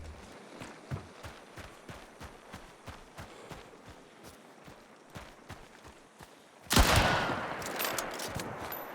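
Gunfire in Hunt: Showdown, a run of sharp, evenly spaced cracks that ends in a louder, sustained burst of shots.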